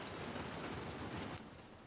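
Steady rain pours in The Last of Us Part 2, a dense even hiss that continues for most of the moment and then drops to a softer, quieter patter near the end.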